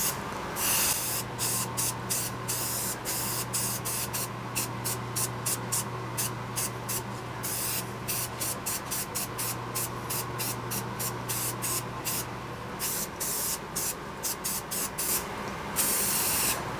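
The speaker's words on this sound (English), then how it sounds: "everything I've done with flat black spray paint" Flat black spray paint goes onto a routed sign in many short hissing bursts, close and loud, in an uneven rhythm of quick sprays and brief pauses, with a faint steady hum underneath.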